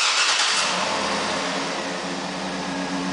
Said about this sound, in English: The turn signals will flash and the car will come on.